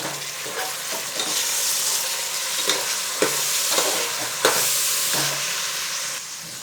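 Peas, mixed vegetables and soya chunks fry for pulao, a steady sizzle punctuated by repeated spatula scrapes and stirs against the pan, no talking.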